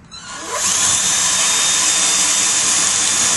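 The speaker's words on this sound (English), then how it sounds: "You take your drill, remember you approximate the angle, you can measure that out, get a drill bit of sufficient size." Power drill boring an angled hole into maple wood, a loud steady high-pitched whine that ramps up in the first half second and then holds constant without a break.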